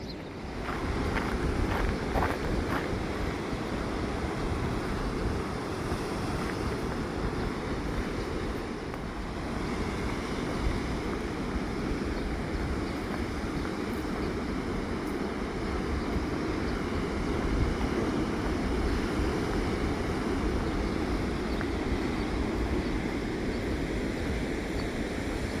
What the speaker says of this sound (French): Les vagues nous bercent sur le chemin.